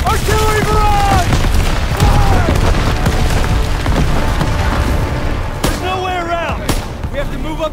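Repeated artillery shell explosions in a Call of Duty: WWII battle on Hill 493, a loud continuous barrage of booms and blasts with shouting voices over the top.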